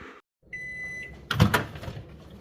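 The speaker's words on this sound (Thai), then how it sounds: "ก็เอาไปใส่ไมโครเวฟนะคะ ให้เขา อุ่นๆนิดนึง" A microwave oven warms McDonald's pancakes: a brief hum cuts out, then a steady tone with the click of the door or buttons, followed by a louder clunk and rattle as the unit runs on with a low drone.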